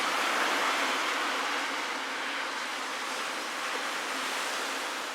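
Steady broadband surf washing onto a Georgian shore, a continuous wash of sea waves with light wind, even and unbroken throughout.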